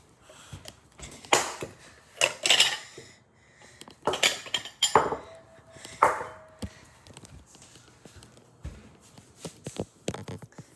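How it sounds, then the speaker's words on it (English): Plates and bowls knock and clatter as they are pulled out and set down, giving several loud, uneven clinks and thuds with quieter handling between them, close by and without talk. "I'll just get some of the small plates out."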